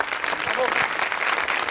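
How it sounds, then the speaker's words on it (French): A crowd at a televised lottery gala applauds a guest of honour, sustained even clapping at moderate level, with faint voices mixed beneath. "Je vous demande maintenant d'applaudir Monsieur Alain Barrault, le président de la Loterie Romande"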